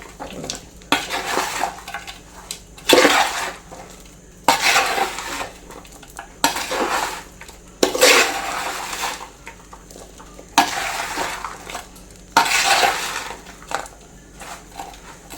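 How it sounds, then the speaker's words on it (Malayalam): Beef pickle being stirred and mixed in a pan, with repeated bursts of scraping and clinking from a spoon against the metal every couple of seconds over a soft background sizzle. "ബീഫ് കൂടി ഇട്ട് നല്ലപോലെ മിക്സ് ചെയ്ത് കൊടുക്കണം അടി കൂട്ടി നാല് സൈഡ് ചേ ചേർത്ത് ഇളക്കി"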